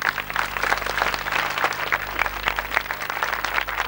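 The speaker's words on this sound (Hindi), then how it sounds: "ब्रह्मचारी जी का तालियों से स्वागत।" An audience at a Shri Ram Katha religious discourse claps steadily to welcome Brahmachari ji, a continuous round of applause with no talk.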